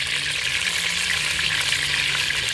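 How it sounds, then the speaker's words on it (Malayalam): Hot oil crackles and sizzles continuously at an even, fairly loud level, close by, with no talking, just before curry leaves go in. "എണ്ണ ചെറുതായിട്ട് തിളച്ച് വരുന്നുണ്ട് കേട്ടോ നമുക്ക് പൊട്ടുന്ന ഒച്ച കേൾക്കാം"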